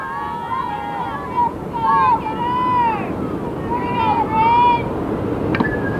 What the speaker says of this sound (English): Boy, when those gusts come up